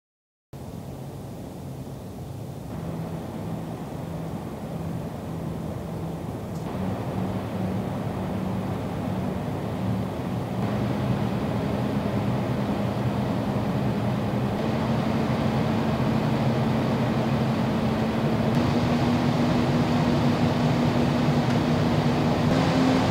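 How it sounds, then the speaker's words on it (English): EK Loop fan mounted on a Nucleus AIO cooler gives off a steady broadband whoosh with a faint motor hum, growing louder in stepped increments as the speed rises, heard alone at close range. "For noise, I'll share the recordings with the fan on the Nucleus AIO"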